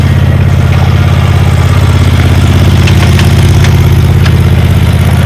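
A commercial walk-behind zero-turn mower's engine runs close and loud, holding a steady, even idle-like drone with a constant low throb throughout and no talking.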